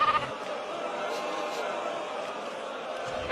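A hungry sheep bleats amid a dense, continuous wash of noise. The calls stay steady and moderately loud for a few seconds without clear breaks.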